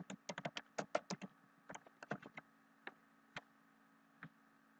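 Quick, crisp keystrokes tap out a name on a computer keyboard in a quiet room, a fast burst of clicks followed by a few slower, scattered presses.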